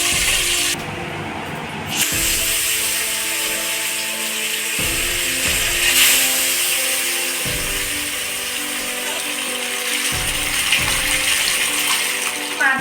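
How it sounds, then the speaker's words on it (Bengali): Pieces of katla fish frying one by one in hot white oil in a wok for a doi katla dish, giving a steady, even sizzle that runs throughout beneath background music. "কড়াতে কিন্তু সাদা তেল দিয়ে দিয়েছি, তেলটা বেশ গরম হয়ে গেছে। এবার আমি এক এক করে মাছগুলো ছেড়ে দিচ্ছি।"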